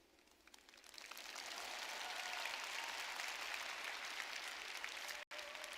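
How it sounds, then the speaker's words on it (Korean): Steady applause from a convention audience, building over the first second and holding at full volume, with a brief drop near the end. "박수 쳐달라고 떼쓰고 있지 않습니까?"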